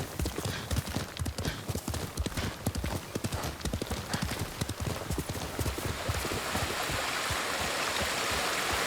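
Rapid hoofbeats of a galloping horse in the video game Ghost of Tsushima pound steadily throughout, with a brief whinny and a rushing, water-like wash building toward the end.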